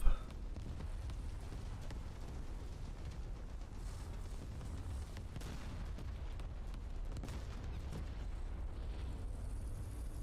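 Continuous rumbling low explosions from level bombing in the War Thunder combat game, a dense steady barrage with a sharp burst at the start and no voices.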